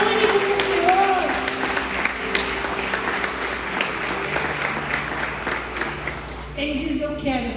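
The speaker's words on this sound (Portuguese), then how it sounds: "Você pode aplaudir o Senhor por essa palavra?" A church congregation applauds during a sermon, broad clapping spread across the room with a tonal voice or music line and talk continuing over it, steady and moderately loud throughout.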